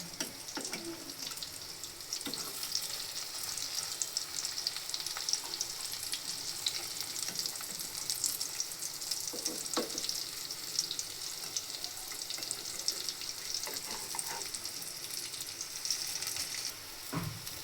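Fish roe fries in a pan of hot oil, giving a dense, steady sizzle and crackle that runs unbroken at close range with scattered pops and no talking.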